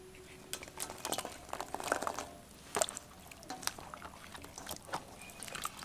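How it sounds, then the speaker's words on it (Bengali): Soya chunks are tipped into a basin of water and washed by hand, giving close, irregular sloshing, light splashes and soft squelching that come and go with no voices. "এবার এই সোয়াবিনগুলো আমি জলের মধ্যে দিয়ে দেব।"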